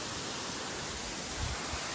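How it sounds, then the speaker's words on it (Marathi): Water pouring down inside the main fall of Baba Waterfall at Kumbhavde near Amboli, a dense, steady roar filling the space close up with no other sounds. "जो मेन धबधबा आहे ना त्याच्या आतमध्ये मी प्रवेश केला"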